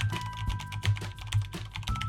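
Typing on a Corsair Strafe RGB mechanical keyboard, a quick run of clacking keystrokes with a few heavier thumps, close and steady under a faint background hum.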